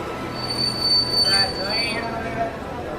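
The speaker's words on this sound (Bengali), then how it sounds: "ট্রেন জাংশন স্টেশনে এসে পৌঁছল।" A train pulls into a junction station, its wheels squealing high and sharp against the rails for a few seconds over a low rumble of the carriages.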